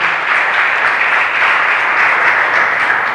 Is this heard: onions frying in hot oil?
no